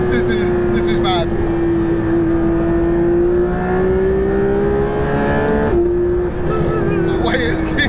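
Porsche 911 GT3 RS engine heard from inside the car, a loud, steady, high revving tone that climbs through acceleration with a brief shift dip, and voices talking over it.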